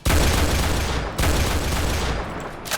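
Rapid bursts of automatic gunfire from a CS:GO-style Roblox shooter game, two long loud volleys close together ending in a short final shot, with no talking.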